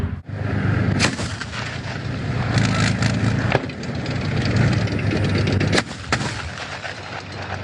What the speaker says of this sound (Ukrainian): Зараз БМП веде вогонь осколково-фугасними снарядами бачимо характерні розриви